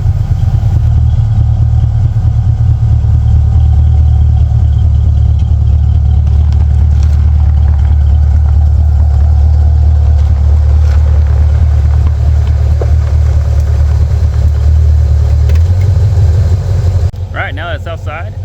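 A 1969 Ford Torino GT engine runs while the car backs up: a loud, close, steady low rumble that holds throughout and shifts slightly near the end.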